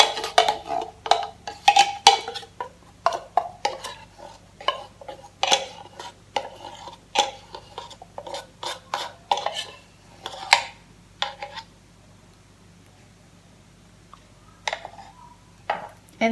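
Glutinous rice flour cake batter mixed in a bowl, close up, with repeated clattering scrapes of a utensil against the bowl in an irregular rhythm, dense at first and then thinning out into near silence.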